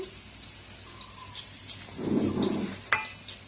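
Hilsa fish fries in hot oil alongside green chillies, heard as a quiet, low sizzle that swells into a brief burst of crackling, then a single sharp pop. No one speaks.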